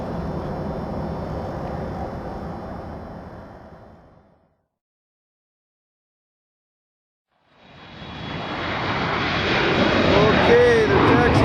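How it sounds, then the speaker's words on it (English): Jet airliner taxiing out for takeoff at an airport, an engine rumble that fades away to near silence and then returns and swells louder, with no talk heard. "there's our airplane taxiing out for takeoff"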